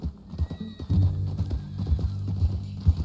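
Horse hooves clip-clopping in the Western video game Red Dead Redemption 2, a steady low plodding under game music and ambience, with no talking over it.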